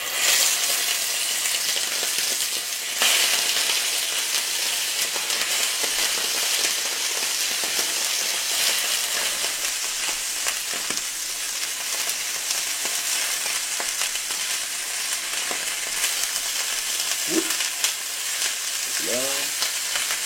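Scallops sear in clarified butter in a hot pan, a steady, dense sizzle and crackle that holds loud and close throughout, with a few faint clinks near the end.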